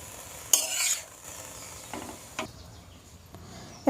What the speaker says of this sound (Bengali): এবার ভালো করে নেড়ে দেব, মিশিয়ে দেব